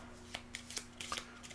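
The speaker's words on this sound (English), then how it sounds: "I'm going to be doing a shuffle." Playing cards shuffled for the Bloodborne board game, a quiet series of soft riffling flicks and papery snaps scattered over a second and a half, close by, with a faint steady hum beneath.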